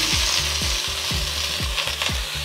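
Onions sauté in a pan of ghee with garlic, giving a steady, close sizzle and hiss with regular scraping strokes of a spatula stirring through the pan, and no talking.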